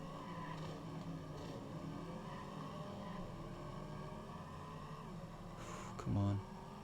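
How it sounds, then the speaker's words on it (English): Race car engines roar in the Monaco Grand Prix game on the Sega Dreamcast, a steady droning whine held for the whole stretch, with a short louder burst near the end. "when you start hearing their engines, you know that they're close"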